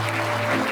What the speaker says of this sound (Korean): 여러분께서는 수상을 축하하는 뜻으로 큰 박수를 보내주시면 감사하겠습니다